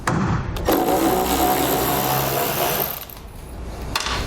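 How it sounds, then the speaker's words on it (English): A powered driver spins an 8mm socket to remove the bolts of a passenger-side tail light. A loud, steady whirring runs for about three seconds, then drops off abruptly to quieter handling noise. "We're going to use an 8mm socket to remove them."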